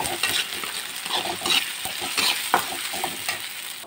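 Ginger garlic paste fries in a pan with a dense, hissing sizzle, and scraping strokes from stirring are heard up close throughout the short stretch.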